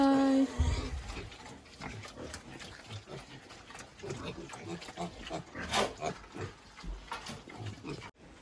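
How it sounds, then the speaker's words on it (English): A pig on a family pig farm grunts and snuffles while feeding, with close, irregular grunts mixed among voices talking and general farmyard noise. "And this is my mommy's pig."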